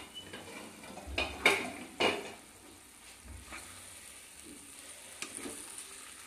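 A cooking pot lid lifts off a simmering vegetarian banana-flower and potato curry (mochar ghonto) on a gas stove, giving two sharp metallic clanks close by over a faint sizzle, then quiet bubbling.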